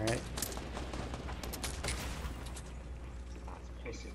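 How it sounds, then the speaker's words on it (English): Rapid bursts of gunfire from a third-party squad in Fortnite rattle through a game lobby, sustained and dense over a steady backdrop of game noise, moderately loud throughout. "I'm getting shot from the third party."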